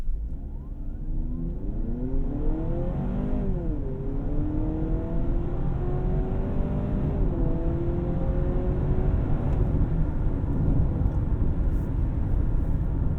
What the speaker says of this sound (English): All right, let's flip it into sport mode here. Do a quick 0 to 60 from a dead stop.